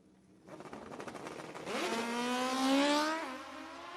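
A drag racing motorcycle sits at the starting line of a sportsman race, its engine buzzing and then revving up in a rising, harmonic-rich howl that peaks and holds, loud and close.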